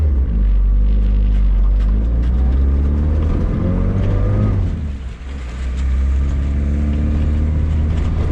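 Honda Civic EF hatch with a turbocharged Vitara D16 engine and a full 3-inch exhaust, a loud, steady droning exhaust note that swells as it revs, dips briefly, then climbs again while driving.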